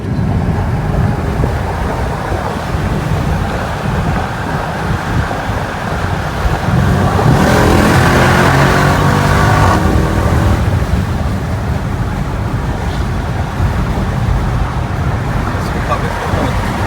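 A Jeep Trackhawk with stability control switched off, its engine swelling briefly in a rising, throaty surge midway through a steady roar of wind and road noise heard from inside the vehicle.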